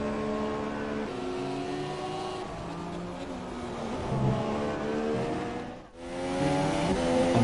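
Race car in a racing video game at the Australian Grand Prix, engine droning steadily through the final corners with rising and falling pitch as it shifts and turns, a brief dip near the end before the revving resumes, loud and continuous.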